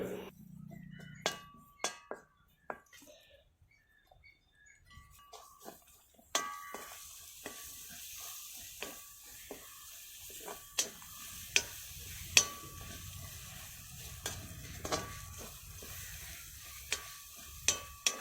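Pork masala with black pepper stirred in a hot pan for Kerala-style pork roast: a quiet scraping stir with scattered sharp clinks and taps of a utensil against the pan over a faint sizzle, with no talking.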